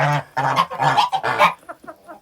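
Geese on a goose farm give a close, loud series of nasal honks in rapid succession, trailing off into softer calls at the end.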